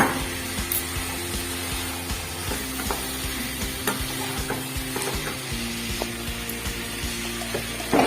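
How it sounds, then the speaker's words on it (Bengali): Potatoes and kidney beans tipped into a pan of oily fried masala, giving a steady close sizzle with scraping stirs and clinks of a spoon against the pan throughout, no voices. "তো এখন আমি আলু আর রাজমাটা দিয়ে দেবো।"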